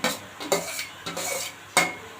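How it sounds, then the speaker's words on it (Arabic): Tomatoes and bell peppers are tipped into onions frying in a pan, giving sharp scraping and clattering hits of a utensil against the pan over a soft sizzle, several bursts in quick succession. "هنزل بالطماطم اهو"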